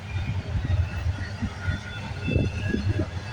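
Low rumbling of a CN freight train rolling by at moderate distance, a continuous rumble with faint rhythmic rail clatter.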